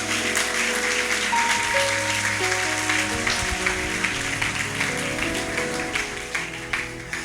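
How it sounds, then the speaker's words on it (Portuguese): Congregation applauding during a church service, a dense, sustained wash of clapping filling the whole stretch, tapering slightly toward the end with sustained musical tones beneath. "Aplauda o nome de Jesus."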